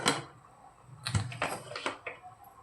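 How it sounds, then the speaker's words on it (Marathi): A pressure cooker lid is fitted shut over Malvani-style green peas rice. A few soft metallic clicks and clunks sound close by in an otherwise quiet kitchen. "आता कुकरचं झाकण लावूया"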